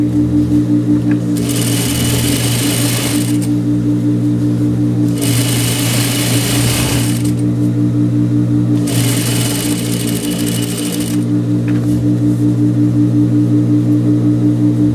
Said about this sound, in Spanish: Vamos a pasar una puntada a medio centímetro.